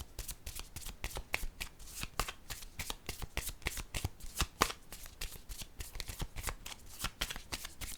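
Tarot cards are shuffled steadily by hand, a fast continuous riffle of crisp slaps and flicks that runs throughout at close range, with no voice.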